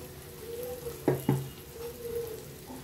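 Ground tomato and onion paste goes into a hot pan for a chicken dish, giving a soft sizzle and two quick clanks of a utensil against the pan, with no one speaking.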